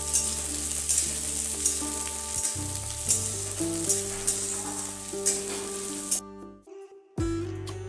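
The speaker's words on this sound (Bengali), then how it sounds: "পেঁয়াজটা ভাজা ভাজা হয়ে গেছে" Sliced onions frying in oil with bay leaf and dried red chilli for a cauliflower-potato curry, a steady close sizzle running beneath continuous background music with no talking.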